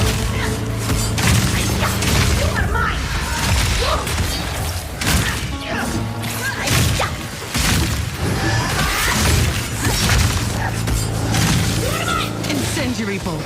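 Crossbow bolts loose and strike in rapid bursts during Path of Exile 2 combat against the mini-boss Laim the Impaler, sharp cracks and crunching impacts repeating over a low game rumble, with a voice talking over the action.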